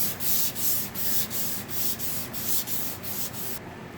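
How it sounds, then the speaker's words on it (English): Hand sanding with 220 grit sandpaper on primer gives a rhythmic swish of about eleven even back-and-forth strokes, close and steady, stopping just before the end. "just sanding some of this primer, and generally what I'm doing here is blocking it all out. 220"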